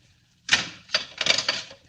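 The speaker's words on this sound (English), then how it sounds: "Now, close the door." A door being shut in a radio drama, giving a sharp knock followed by a couple of rattling thuds as it closes, close and fairly loud over a quiet background.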